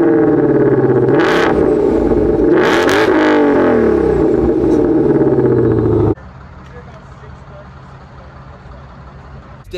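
A 2023 C8 Corvette Z06 and a 2020 Shelby GT500 engine revs loudly and close, with rising and falling pitch sweeps for about six seconds, then drops abruptly to a lower steady hum.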